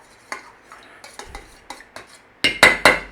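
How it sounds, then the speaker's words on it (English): A spoon clinks and scrapes against a slow cooker pot while yogurt is stirred into milk, starting with soft scattered taps and ending in a few louder, close metallic knocks. "Just give it a mix in, stir it all through that milk."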